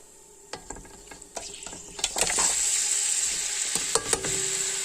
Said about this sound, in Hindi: चिकन शामिल कर दिया। चिकन को फ्राई करेंगे अच्छी तरह